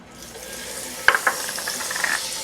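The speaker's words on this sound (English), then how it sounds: "The pan is still hot, so we're going to add some butter." Butter dropped into a hot frying pan already holding a little oil, giving a soft steady sizzle with a few sharp clinks of a utensil against the pan partway through.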